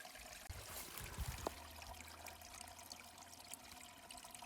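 Small forest stream in Galloway trickling faintly as a water bag is filled from it, with a few soft splashes near the start and a steady gentle flow throughout.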